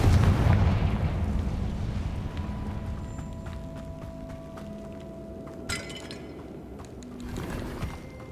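A Confringo blasting spell explodes in a wizarding video game: one loud, booming blast that fades into a long, rumbling decay with scattered crackling debris and faint later thuds.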